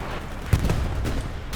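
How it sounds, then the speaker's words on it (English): MG42 machine guns open up in the multiplayer war game Hell Let Loose, with scattered sharp reports and bursts mixed into a constant roar of distant battle noise. "You can hear the MG42s of GBI starting to kick off."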